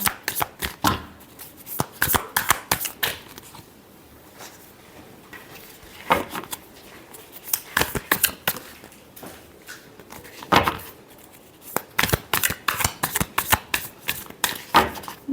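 Tarot cards being shuffled by hand, close and crisp, in repeated bursts of riffling and flicking with short pauses between, no talking over them.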